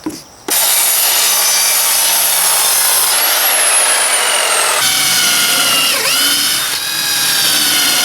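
A power saw whines steadily through a wooden deck board for several seconds after a brief knock, its pitch dipping once as it bites in, close and loud.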